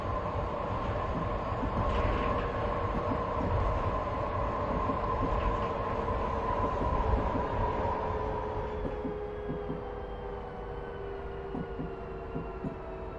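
A Frankfurt U-Bahn subway train runs in the TS Classic train simulator, its motor giving a steady droning hum over rolling track rumble that eases and quietens toward the end.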